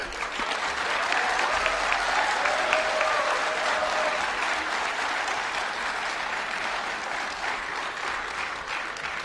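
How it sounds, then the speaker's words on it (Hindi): Sustained crowd clapping at a Bharatiya Bhasha Samiti government function, a thick even wash of applause that holds at steady loudness from start to finish without speech. "तालियां गोविंद सिंह सर की तालियों से थोड़ा अभी भी कम है।"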